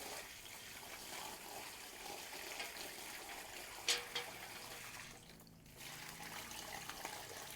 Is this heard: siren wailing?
no